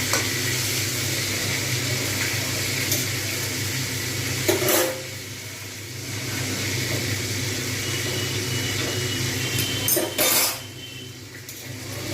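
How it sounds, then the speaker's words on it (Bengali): Rohu fish head frying in oil in a covered pan, giving a steady, close sizzle throughout with a couple of brief clatters from the lid or utensils; no voices. "আমি এটাকে ঢাকা দিয়েই ভাজব সিদ্ধও হয়ে যাবে সাথে সাথে ভাজাও হয়ে যাবে"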